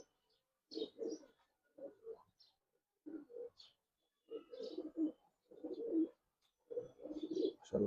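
Giribaz pigeons coo close by in soft, throaty bursts, repeated calls in irregular clusters with short quiet gaps between them, heard alone.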